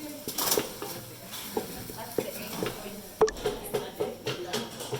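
Minced meat frying and browning in a pan for lasagna, a close sizzle broken by scraping stirs and a few utensil knocks against the pan, with faint low voices in the background.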